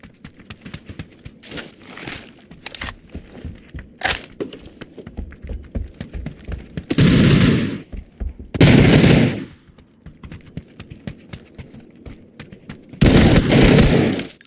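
Loud bursts of automatic gunfire from the shooter game PUBG, three heavy volleys among scattered sharp shots and clatter, close and harsh with no talk.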